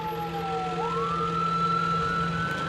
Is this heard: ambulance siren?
yes